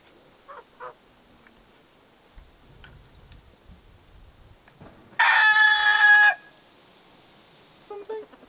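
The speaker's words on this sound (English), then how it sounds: "The rooster got angry." Rooster on a farm with goats letting out one loud, close crow lasting about a second, preceded by soft clucks and faint scuffling, with a few quieter calls afterward.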